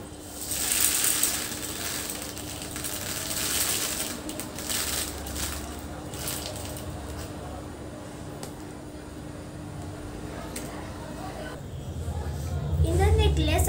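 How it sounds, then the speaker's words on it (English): Loose masoor dal grains being shaken off a pulses-and-grains craft piece, a gritty rattling and pattering that comes in bursts under a steady hum, with someone speaking near the end. "Now I will shed the extra masoor dal."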